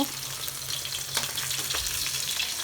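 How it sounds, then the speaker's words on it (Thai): Mackerel frying in a pan gives a dense, close crackling sizzle with scattered pops and spits, steady and moderately loud throughout, with no voices. "ทอดปลาทูนะคะ"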